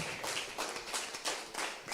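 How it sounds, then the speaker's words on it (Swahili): Church congregation at a Sunday service clapping, a short run of quick, fairly even hand claps in a roomy space, close and without talk. "mpigieni makofi mazuri"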